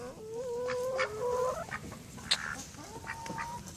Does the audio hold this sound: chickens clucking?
yes